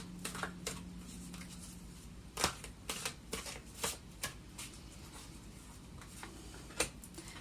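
Tarot cards are shuffled close by in soft, papery riffles and flicks with brief sharp snaps between them, quiet and unhurried, with no voice heard.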